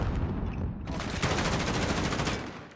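Rapid automatic gunfire from Call of Duty: Modern Warfare during a Team Deathmatch match, loud dense bursts of shots that grow heavier partway through and run almost continuously to the end.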